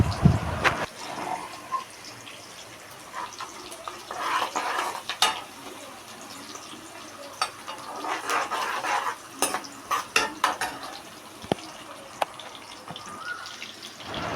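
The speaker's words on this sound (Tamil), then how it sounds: "நல்லா வெங்காயம் வதங்கி பச்சை வாசனை வரைக்கும் நல்லா மிக்ஸ் பண்ணிக்கோங்க." Chopped onions being stirred and sautéed in a pan, with a spoon scraping and clattering against the metal in scattered bursts over a faint steady hiss, close by with no talking.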